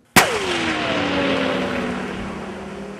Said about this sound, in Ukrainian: Небезпечні знахідки піротехніки з обережністю вилучили, вивезли у спеціально відведене місце та підірвали.